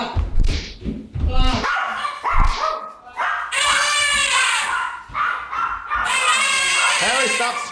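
Dogs bark loudly and close by in repeated sharp bursts, followed by higher, drawn-out yelping barks in a residential setting.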